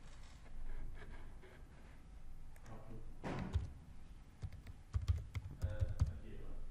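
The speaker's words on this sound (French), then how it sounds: "Je vais le rentrer avec le clavier de l'ordinateur pour pas qu'on le voit." A password is typed on a computer keyboard, with faint, irregular clicking keystrokes clustering toward the end over quiet room noise, no speech.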